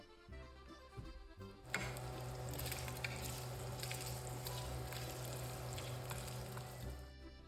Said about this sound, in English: cook your bacon in a large Dutch oven until it's crispy